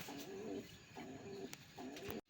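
A pair of orange Chila pigeons cooing up close, three rolling coo phrases spaced roughly evenly, with no talking over them.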